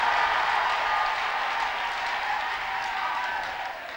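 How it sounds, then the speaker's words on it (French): A church congregation applauds loudly in a continuous, dense wash of clapping. It holds steady, then eases slightly toward the end. "Acclame fortement."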